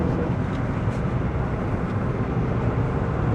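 A Toyota Aygo accelerates hard through the gears, its third gear sticking, giving a loud, steady cabin roar of engine and road noise that stays continuous throughout.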